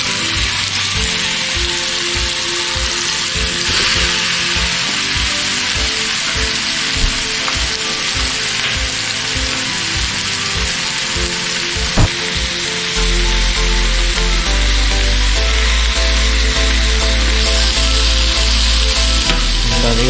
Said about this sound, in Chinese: 这个等这个油热了以后，我们就可以开始煎我们的猪排